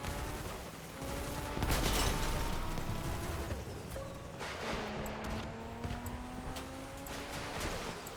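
Gunfire from armed combat vehicles in the video game Crossout, a dense fusillade of repeated shots with a heavier burst around two seconds, mixed with mechanical clatter and rumbling engines throughout.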